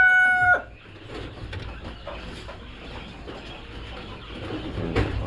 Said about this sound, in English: They're kind of mixed chickens.